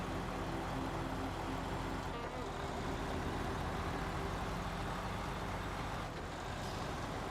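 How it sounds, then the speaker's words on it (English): A heavy truck hauling a big multi-wheeled trailer in SnowRunner grinds along with a steady, continuous engine drone and rumble, moderately close, with no talk over it. "This truck's actually doing really well with this big trailer."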